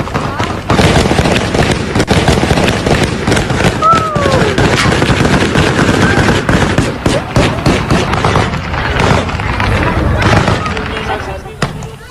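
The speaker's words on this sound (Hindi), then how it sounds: "गोलियों की आवाज ऐसे सुनाई दे रही है जैसे आतिशबाजी हो रही है, नॉन स्टॉप सुनाई दे रही है।" Continuous gunfire in a Taliban-era scene, with dense overlapping rapid shots crackling nonstop like fireworks at a loud level throughout, a voice heard briefly under the barrage.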